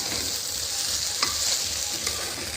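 Rice stirred and fried in a pot while making pulao, a steady sizzle with soft scraping stir strokes and a couple of light clinks, close and fairly quiet, with no talk.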